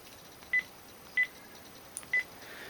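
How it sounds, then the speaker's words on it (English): Three short, evenly spaced electronic phone tones ring out alone over a faint background hiss, each a brief steady beep about half a second apart. "My phone's ringing,"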